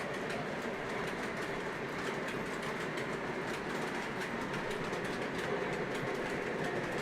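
Continuous rolling rumble and clatter of an MTH Santa Fe model train running on its track, steady and fairly close with faint rhythmic clicking and no voices over it.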